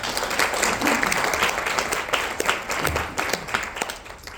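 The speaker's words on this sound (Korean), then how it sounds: "여러분 큰 박수로 맞아주시기 바랍니다." Conference audience welcoming a neuroscience lecturer with a sustained wash of applause, dense and even at first, then thinning into scattered separate claps as it fades toward the end.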